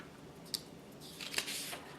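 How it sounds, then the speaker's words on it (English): Scissors snip through pink paper while a half circle is being cut out, giving a couple of faint, brief crunching snips in a quiet room. "Take your pink half circle and your scissors and cut out your pink half circle."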